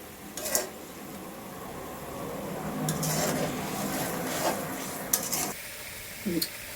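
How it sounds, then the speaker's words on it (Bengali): Spices being stir-fried in a pan for egg curry: steady scraping and stirring with a low sizzle and a few sharp metallic clinks of a spoon against the pan, close and moderately loud. "এখন আমি এই যে মশলাগুলো দিচ্ছি কষিয়ে নেওয়ার জন্য"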